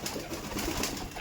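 Kaldom pigeon in a loft giving a soft, low coo, faint and close, with a brief muffled warble over light background room noise.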